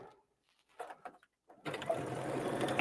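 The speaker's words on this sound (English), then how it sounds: "I'm going to do another quick short 1/2-inch seam allowance stitch." A sewing machine stitches a short seam with a half-inch seam allowance, running steadily and close for over a second after a few soft handling sounds and brief quiet talk at the start.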